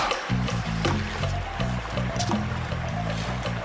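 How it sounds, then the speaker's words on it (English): River water runs in a continuous splashing, trickling wash, mixed with a steady tonal backing throughout. "A river is moving water."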